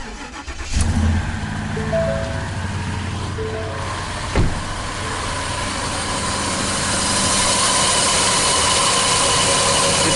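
Truck engine running in cold weather, a steady loud idle drone with a brief sharp click partway through and a slight rise in noise toward the end, heard close with no talking.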